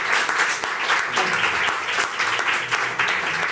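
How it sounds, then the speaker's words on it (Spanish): An audience at the end of a science talk breaks into sustained, lively applause, many hands clapping densely and fairly close throughout, with no voices standing out. "un aplauso otra vez y muchas gracias."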